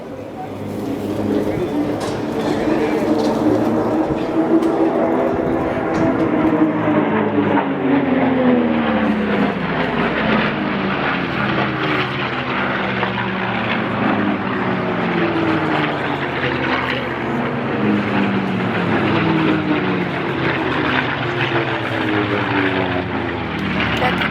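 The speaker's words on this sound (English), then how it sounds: "Let's listen to this beautiful sound of unlimited racing, Reno style." Unlimited-class racing planes at the 2011 Reno Air Races roar past in a loud, sustained drone, engine pitch sweeping up and down as they pass nearby, with a faint voice mixed into the noise.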